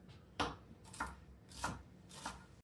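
Knife chopping celery and carrots on a cutting board, four distinct evenly spaced chops close up, with no talking.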